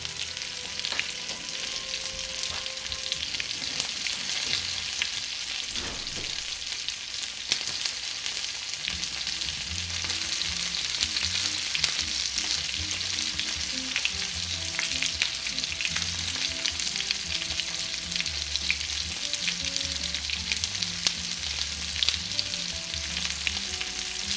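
Homemade cordon bleu fries in a pan of half oil and half butter, with a loud, continuous sizzle and crackle throughout and faint music playing underneath.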